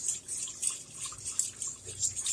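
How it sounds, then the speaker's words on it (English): Beef broth poured from a carton into a cooking pan gives a soft, continuous splashing trickle, close and fairly quiet, with no one speaking. "So I'm going to add this beef broth"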